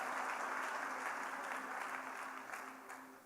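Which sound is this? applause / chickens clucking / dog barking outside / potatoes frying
applause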